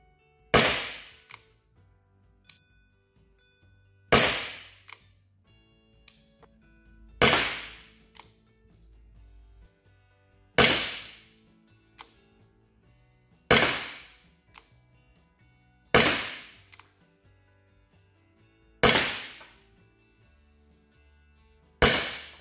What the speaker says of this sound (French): C'est parti pour le stand de tir avec le MP9, sa Olight RL et les PLB-43.